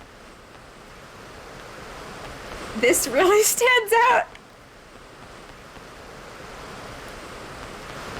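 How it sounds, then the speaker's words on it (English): A waterfall in the video game Yopple Worship Simulator makes a continuous, even rushing roar in the background. Someone speaks briefly over it midway. "Listening to a waterfall?"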